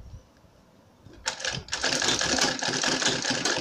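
A sewing machine stitching piping onto the front piece of a homemade diaper bag, its rapid mechanical whirring starting after a quiet second and running steadily, close and fairly loud.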